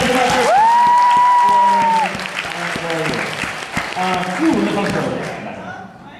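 A large audience at an anime convention panel with voice actor J. Michael Tatum claps loudly and steadily. Some whooping and rising whistle-like cheers ride on top before the applause eases and fades near the end.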